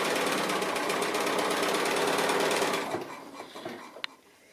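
A sewing machine runs a regular straight stitch through fabric, making a loud, fast, steady mechanical chatter close by that slows and stops after about three seconds, followed by a few soft handling clicks.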